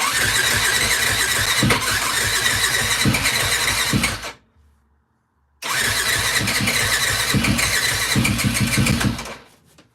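A 2003-2005 Yamaha WR450F dirt bike with a freshly rebuilt carburetor, started on choke: loud, close engine roar and cranking for about four seconds, a brief silence, then the engine fires again loudly until it fades near the end.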